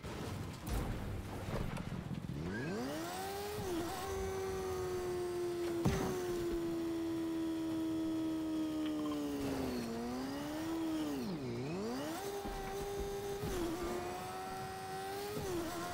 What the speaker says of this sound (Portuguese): Olha o barulho dessa moto, parece um jogo de corrida.